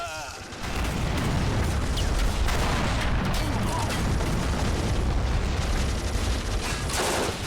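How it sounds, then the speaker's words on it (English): Dense, continuous battlefield din from a toy-soldier war video game depicting a grey army men D-Day invasion: artillery booms and machine gun bursts blend into a loud, steady barrage that holds from the first second to the end. "We still have artillery on the right flank."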